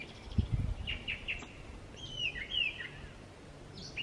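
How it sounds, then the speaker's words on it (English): City birds call and chirp in short bursts, with rising and falling whistled notes and a few quick repeated tweets, moderately close over a low urban background hum. "when you're out in the city, it never really occurs to you how intricate these birds communicate"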